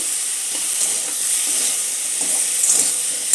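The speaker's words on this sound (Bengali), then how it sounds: "চিকেনটা বেশ ভাজা ভাজা হয়ে গেছে" Chicken sizzling steadily in a pan with salt and green chillies added, oil-free cooking, a constant close hissing fry with faint stirring clicks throughout.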